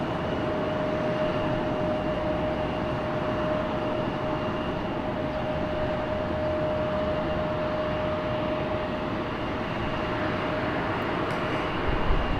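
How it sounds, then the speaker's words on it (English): A Southwest airliner taxiing briskly at Raleigh-Durham International, its steady broadband jet roar holding constant with a thin high whine running through it, loud and unbroken throughout with no voices. "Southwest taxing in Southwest fashion in a very big hurry"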